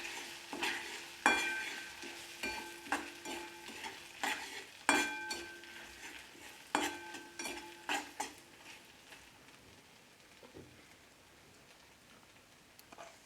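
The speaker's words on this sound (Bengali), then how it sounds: "এটা ভালোভাবে আমি আঁচটাকে লো করে ভেজে নিচ্ছি।" Bottle gourd and shrimp frying on low heat with chili powder, a gentle sizzle under repeated rhythmic clinks of a spatula striking the pan, loud at first and growing sparser and quieter toward the end.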